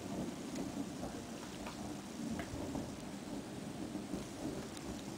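A thunderstorm rumbles on continuously with steady rain hissing over it, a sustained low roll that stays fairly even throughout, with no one talking.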